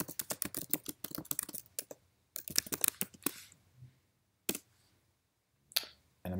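Rapid bursts of computer keyboard typing, close and crisp, come in quick runs of keystrokes separated by pauses, ending with a few isolated key presses.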